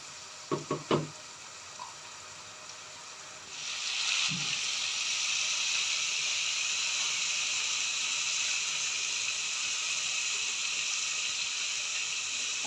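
Garlic and onion paste frying in a pan over medium flame, a soft steady sizzle that swells after a few faint clinks and then continues evenly, quiet and close.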